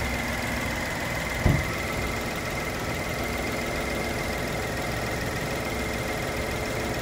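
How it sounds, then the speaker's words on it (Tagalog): A Nissan Almera engine idles steadily with a rough, shaking vibration, a continuous close mechanical drone broken once by a brief knock. "Manginig nga yung makina niya."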